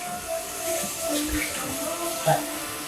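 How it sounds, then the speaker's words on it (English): Water runs from a kitchen tap as hands are washed, a steady close hiss of flow with small splashes throughout. "I wash my hands"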